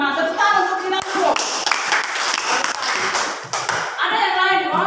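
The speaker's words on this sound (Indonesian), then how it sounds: "Tepuk tangan untuk kita dulu." Children in a classroom clap together in a burst of quick, close hand claps with a few louder claps among them. Brief voices are heard around the clapping.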